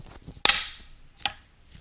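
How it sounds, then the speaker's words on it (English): A circlip on a bearing snaps into its groove during a 2002 Honda Odyssey automatic transmission rebuild, a single sharp metallic click close up, followed by a softer second click and quiet workshop handling noise. "that's the sound of the circlip snapping into place"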